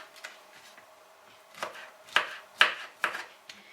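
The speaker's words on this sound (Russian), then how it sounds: "Нарезаем шампиньоны мелкими кусочками." A knife chops champignon mushrooms into small pieces, giving about half a dozen crisp, close chops at an uneven pace in an otherwise quiet kitchen.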